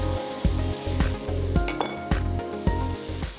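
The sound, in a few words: sautéing capsicum and vegetables in a pan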